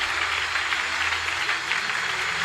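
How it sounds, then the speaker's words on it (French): Continuous applause from a church congregation, a dense steady patter of many hands clapping at moderate loudness throughout. "De vraies acclamations pour le don qu'ils sont."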